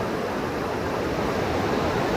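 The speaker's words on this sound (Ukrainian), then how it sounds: "Ліворуч хвиля" Ocean waves breaking on Falésia beach in Portugal on a sunny morning after rain, a dense, steady roar of surf filling the whole moment, close and fairly loud with no voices.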